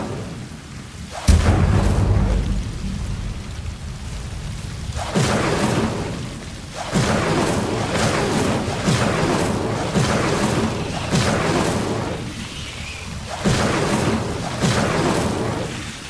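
Incendio fire spell blasts in the Hogwarts Legacy video game: a heavy booming burst followed by repeated rumbling whooshes and crackling roars spaced a second or two apart, loud and close, against a noisy rain-like background.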